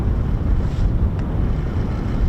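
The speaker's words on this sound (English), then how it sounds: "that wind is blowing again" Wind buffets the microphone outdoors by the RAF Lakenheath airfield, a loud, continuous low rumble that fills the whole stretch without any talking.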